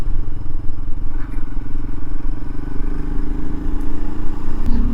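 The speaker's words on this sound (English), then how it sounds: "Third gear, accelerating up the hill from 30 at 40 now." Royal Enfield Himalayan motorcycle pulling uphill in third gear, a steady low engine drone that rises slightly in pitch as it accelerates, continuous and close with wind rumble throughout.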